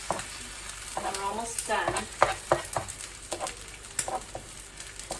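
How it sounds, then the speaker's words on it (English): Eggs frying on an okonomiyaki pancake on a hot griddle, a close steady sizzle broken by a few scraping and tapping knocks from a spatula, with a person speaking briefly. "let the eggs continue to fry"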